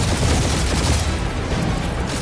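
Gunfire in the video game Guardians of the Galaxy, a short loud burst of rapid, booming shots and blasts, dense and close.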